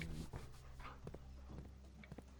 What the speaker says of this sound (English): Good puppy. Give me luck, puppy.